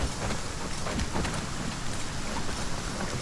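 Rain falling in the video game Aska, a dense, steady hiss of downpour that stays even and unbroken throughout, with no voices.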